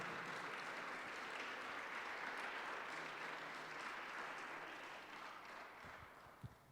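A church congregation applauds in praise during a worship service, a broad, steady wash of many hands clapping that carries on throughout and thins slightly toward the end.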